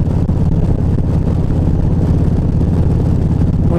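A car engine cruises in overdrive at barely 2,000 revs, about 55 mph on the road. It makes a steady, close, low droning rumble mixed with road and wind noise, continuous throughout with no other sounds.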